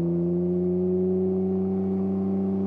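Steady idling drone of a Can-Am Ryker fitted with a loud Two Brothers S1R exhaust, heard close up from the seat, a deep boomy hum with strong low harmonics held evenly throughout, no voices.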